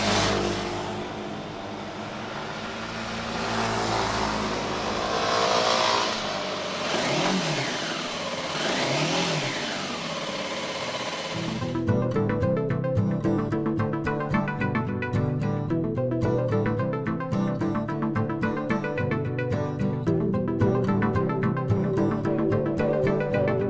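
A Kawasaki Z250 SL's single-cylinder, 4-stroke 250cc engine revs up and down in repeated rising and falling sweeps, loud and near, before music takes over for the remaining half.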